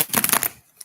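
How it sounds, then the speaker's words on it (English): A tarot card deck being shuffled up close, a quick half-second flurry of crisp papery flutters and snaps that stops abruptly, followed by near silence and one faint soft tap. "you're going to hear some ASMR type of shuffling of the decks"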